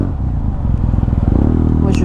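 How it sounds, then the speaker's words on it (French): Motorcycles rumble and rev loudly and close by while passing in city traffic, a continuous engine drone that builds toward the end. "Alors, il y a de la moto."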